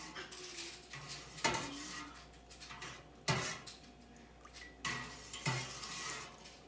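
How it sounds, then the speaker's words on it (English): A spoon stirring milk in a pot after citric acid is added for quick mozzarella, giving scraping clinks against the metal at a steady pace, with a few louder knocks standing out, close and alone. "And you just give a good stir"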